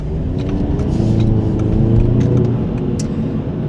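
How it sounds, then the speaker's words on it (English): A 2-litre Audi TT Coupe engine runs at a steady, loud, close rumble with a smooth drone throughout, and no talk over it. "this car has got the bigger 2-litre power output engine"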